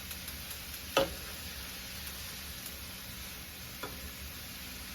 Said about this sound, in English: Stir this here on up in there